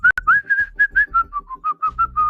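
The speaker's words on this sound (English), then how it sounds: "Whistle solo." A person whistles a short melodic solo tune, a series of clear pitched phrases with brief gaps between notes, close and alone with a faint low hum entering near the end.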